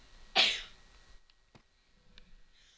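A single loud, close sneeze bursts out near the start, followed by quiet room tone with a few faint clicks and soft rustles.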